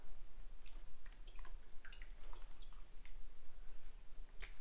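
Liquid drains and drips from harvested produce in faint, irregular droplets over a low, steady background hum.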